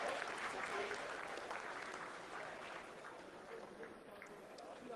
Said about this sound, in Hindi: आप तालियों के गड़गड़ाहट से सुन